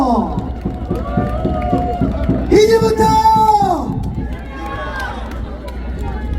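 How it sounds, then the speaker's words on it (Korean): A campaign rally crowd at 5.18 Democracy Plaza in Gwangju cheers and applauds as a lawmaker is welcomed on stage, a dense, loud roar with whistles and shouts rising over steady clapping beneath amplified speech. "여러분 박수로 맞아주시기 바랍니다"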